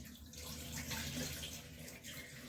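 Soaked dal being rinsed in water, a steady close splashing and sloshing that runs throughout without pause.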